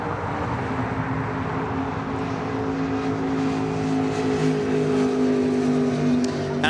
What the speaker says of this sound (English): This is Alaska Airlines 1398 taking off to Mazatlan on a